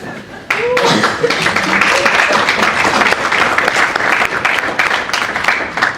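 An audience at a Model UN closing ceremony bursts into dense, sustained applause that starts abruptly and stays loud and close, with a voice faintly audible beneath the clapping.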